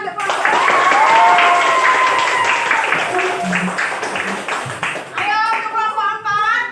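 Class of students applauding a group, clapping running beneath a teacher's voice, with children's chatter rising near the end.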